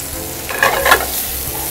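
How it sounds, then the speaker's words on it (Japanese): Spinach stir-frying over high heat in a pan after salt is added, a steady bright sizzle with a louder burst of hissing and stirring in the middle, heard alone. "この時は結構強火でですね、さっとほうれん草がしんなりするまで、炒めていきます。"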